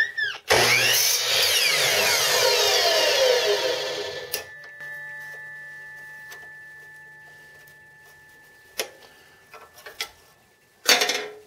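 A chop saw makes a quick cut for a plaque stand: the motor whines up loudly, the blade screams through the workpiece for about four seconds, then spins down with a fading hum, followed by light clacks.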